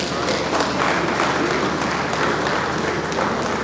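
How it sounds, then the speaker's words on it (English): Audience applause at the commissioning of a university school of governance studies in Nigeria, a steady, dense wash of clapping that fills the whole stretch at even loudness with crowd noise mixed in. "Can we give a round of applause, please?"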